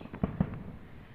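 Fireworks go off during an evening on a house rooftop, two quick muffled pops in close succession at a distance, then a low murmur of background noise.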